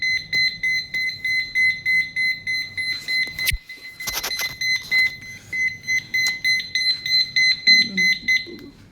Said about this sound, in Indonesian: Nah, ini akan membuat buzzer mengeluarkan suara.